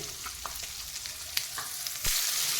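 Thick-cut onion pieces sizzle in hot oil on a medium flame for channa masala, a steady close frying hiss with occasional stirring scrapes and a louder burst of sizzle near the end.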